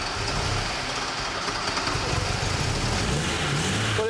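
A Porsche engine running steadily after being fitted with a new battery, a continuous even idle hum with no revving, close and alone without talk.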